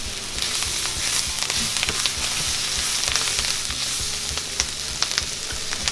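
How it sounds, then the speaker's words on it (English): Golden mushrooms with garlic and thyme fry for beef stroganoff in a pan, giving a loud, steady sizzle with crackling pops and some stirring throughout, close up and without talk. "Now that our mushrooms are golden, let's add our garlic with a little bit of thymian."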